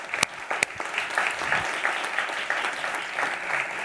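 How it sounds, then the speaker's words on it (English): At a book launch event, an audience claps for an author, a few sharp individual claps up front quickly joining into sustained, even applause from the room. "Always clap for an author at the beginning of a book tour"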